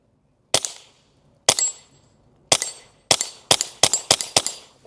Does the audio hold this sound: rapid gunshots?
yes